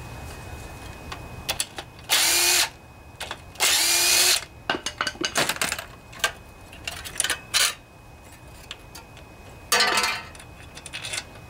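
Power drill driving bolts back into an 8 HP Briggs and Stratton riding lawnmower engine, with three loud, sustained whirring bursts of a couple of seconds each, separated by clinking and handling of bolts and parts.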